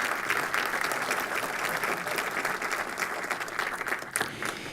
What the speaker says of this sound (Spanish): Un aplauso para todos quienes aquí se encuentran presentes.